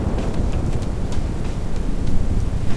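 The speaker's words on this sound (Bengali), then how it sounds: "ঝড়ো হাওয়া বইতে লাগলো।" Stormy wind blows hard in a continuous, loud, roaring rush with gusty low rumble and no voices.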